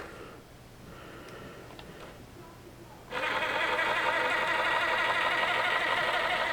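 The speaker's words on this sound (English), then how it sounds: "Very quiet compared to the stock ESC and motor." A cheap RC crawler's motor running on an Injora MB100 ESC with a 6 volt BEC, starting quietly and then rising after about three seconds into a steady whine with a dense, textured buzz.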